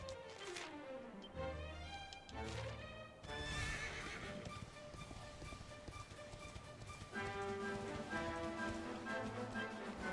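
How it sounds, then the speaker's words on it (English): A horse whinnies loudly at the start in Dragon Quest XI S, followed by clip-clopping hooves and a busy game soundtrack with musical tones layered over the scene. "There's a weird horse friend over there"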